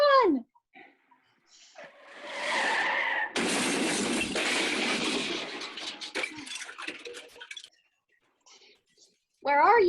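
A car skids as it swerves, a rising tire squeal followed by a long, loud rushing screech that fades into scattered rattles, staged as a radio play sound effect, with brief voices at the start and end.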